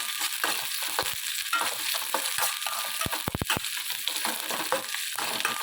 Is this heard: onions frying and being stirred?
yes